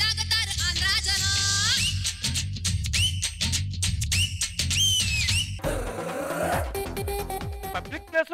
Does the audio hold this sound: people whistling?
yes